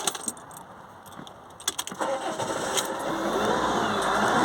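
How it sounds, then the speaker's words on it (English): Keys jingle briefly, then the diesel engine of a Fiat Ducato van with soot build-up in its diesel particulate filter cranks and catches, settling into a steady, rising rumble that grows louder toward the end. "I'll start it once more."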